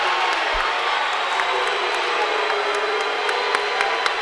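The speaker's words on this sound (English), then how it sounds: "I don't know what they're booing about because it was a jump ball." Dense basketball crowd noise at a high school game between Borden and West Washington, sustained and loud throughout, a broad roar of voices that fits booing after a jump ball call, with a few sharper shouts standing out.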